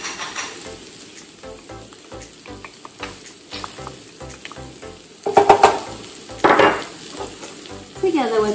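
Rosemary and thyme being stirred into mushrooms in a hot pan, a steady sizzle and frying crackle with scraping stir strokes and louder bursts of spitting toward the end.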